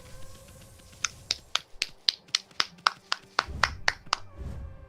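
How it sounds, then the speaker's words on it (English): A rapid run of sharp, crisp hand claps or snaps, about fifteen distinct hits in quick rhythm, close and clear against a quiet background. "I clapped for Robert Picardo."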